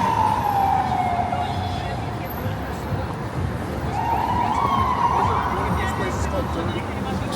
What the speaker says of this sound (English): Sirens up ahead.